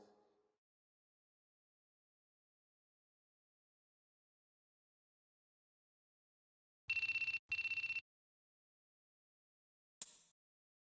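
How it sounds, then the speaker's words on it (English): A telephone in the Shin Megami Tensei 3 Nocturne video game rings in two short electronic bursts, followed by a brief high chime, against an otherwise silent background. "I think that's your phone going off."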